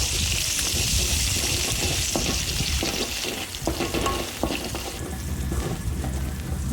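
Steady sizzling and frying from a hot pan, with intermittent scraping and stirring clatter, close and continuous throughout.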